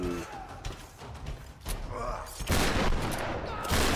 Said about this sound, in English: I'm gonna shoot at you because why not?